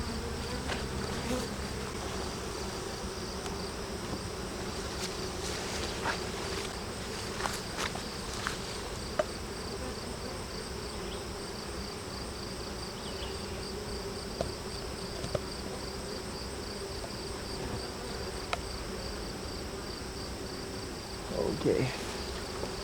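A dense swarm of honeybees hums continuously, close and steady, with occasional faint knocks and rustles; near the end there is movement.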